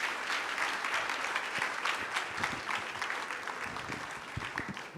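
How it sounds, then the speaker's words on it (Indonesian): A church congregation applauds a visiting evangelist during a worship service, steady dense clapping from a large crowd holding evenly for the full stretch with no break. "Sama-sama kita kasih aplaus."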